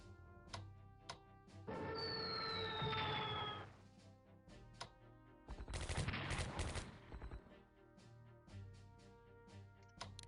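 Game bombardment gunfire in SC WWII: War in Europe, heard as short bursts of rattling shots and booms over soft background music, with a whining rising tone early on and a dense volley midway.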